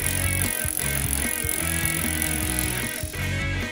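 A bicycle sounds up close with rapid rhythmic rattling and clicking of its chain and parts, repeating in quick even pulses throughout the short stretch, with no one talking.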